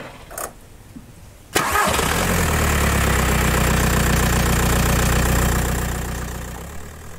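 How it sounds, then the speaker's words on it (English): A Skoda Fabia engine cranks briefly and catches, then settles into a steady, fairly loud idle close by, easing slightly toward the end. "Right, start the car."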